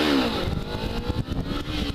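A 2013 Kawasaki Ninja 300 revving hard with its rear tire spinning during a sit-down wheelie, a loud close engine whine climbing in pitch over rough roaring noise.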